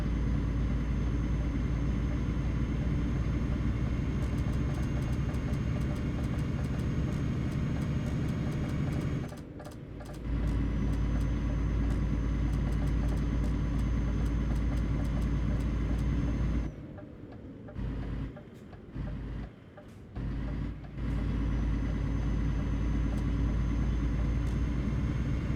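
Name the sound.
turbocharged truck engine driving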